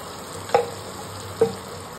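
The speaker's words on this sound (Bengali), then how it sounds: "এটাকে এবার কষাতে হবে, একদম তেল ছেড়ে যাওয়া পর্যন্ত কষাতে হবে" Spices with salt and turmeric sautéing in oil in a pan, a steady low sizzle underneath two short, sharp scraping stirs about a second apart, fairly close with no talking.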